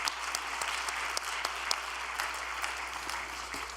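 Steady applause from a crowd, many hands clapping continuously and evenly for several seconds, no speech over it.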